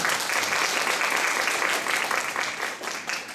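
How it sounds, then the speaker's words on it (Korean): Parents and teachers at a school parents-teachers meeting applaud a newly introduced science teacher: dense, steady clapping from a seated crowd, close and sustained, easing slightly at the end. "강의 박수 부탁드립니다."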